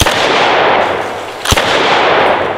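A DDI LA-K12 Puma bullpup shotgun fires a slug: one sharp, loud report cuts through steady broadband outdoor noise, with a fainter impact-like thump at the very start and no talking.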